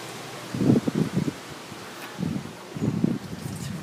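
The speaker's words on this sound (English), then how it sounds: "It's very windy outside" Strong wind gusts outside an ocean-view hotel room on Hawaii's Big Island, heard as a few bursts of low, buffeting rumble against the microphone, separated by quieter moments.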